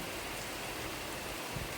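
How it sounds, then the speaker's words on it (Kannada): Heavy monsoon rain falling steadily, a loud, unbroken wash of dense drops close by that fills the whole moment with no voices. "ತುಂಬ ಮಳೆ ಬೆಳಿಗ್ಗೆಯಿಂದ."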